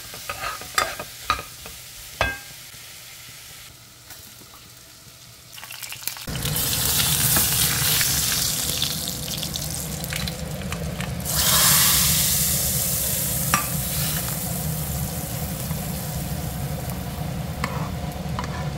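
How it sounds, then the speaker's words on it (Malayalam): Onions sauté in a pan for a chicken curry, starting with a few scrapes and taps, then a steady loud sizzle and frying hiss under repeated stirring. "ഇതവിടെ കിടന്ന് വഴറ്റണം, നന്നായിട്ട് വഴങ്ങണം, എന്നാലേ ചിക്കൻ കറിക്ക് നല്ല ടേസ്റ്റ് കിട്ടും."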